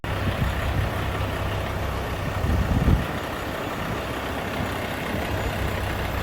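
A truck engine runs steadily after wiring harness repair work, a low, even idle hum close by with a brief heavier swell near the middle, and no talk over it.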